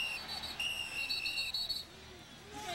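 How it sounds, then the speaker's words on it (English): A referee's whistle shrills in short repeated blasts at a 2002 Texas Longhorns vs Texas A&M Aggies college football game, ringing out over a steady crowd roar. "And the whistle blew."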